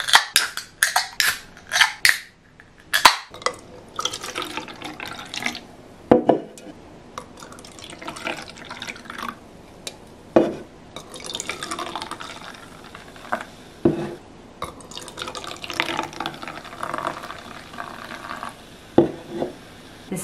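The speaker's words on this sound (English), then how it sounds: "Let's open and pour." Cans of Monster, Red Bull and Coca-Cola energy drinks cracked open and poured, sharp snaps of tabs followed by fizzing, splashing liquid pouring into glasses, repeated three times close up.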